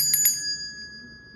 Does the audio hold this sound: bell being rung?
yes